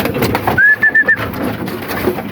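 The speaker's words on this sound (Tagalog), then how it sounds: "So tara, pakainin na natin mga kalapatids." Several pigeons coo close by while being fed outdoors, a few drawn-out tonal coos in a row over a busy, noisy background, with no talk.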